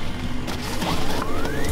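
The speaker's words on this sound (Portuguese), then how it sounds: "Fecha a porta." An indoor house door is pushed shut with a creaking mechanism, a faint rising squeal and a soft latch knock, against steady room noise.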